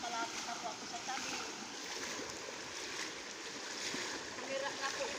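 Flood water on a flooded street during a typhoon, a continuous faint rushing and sloshing of water as someone wades across, with a person talking over it.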